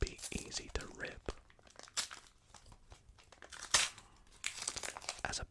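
Crinkly foil trading card packs for World Cup cards being torn open close up, with sharp ripping bursts and crackling rustles, plus soft whispered speech.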